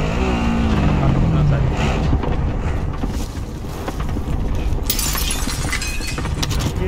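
A vehicle in the video game Plunder Quads roars steadily with a loud engine and wind rush throughout, a sharp crash bursting in near the end, while players talk over it.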